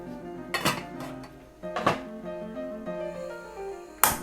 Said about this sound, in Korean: 뚜껑을 닫겠습니다.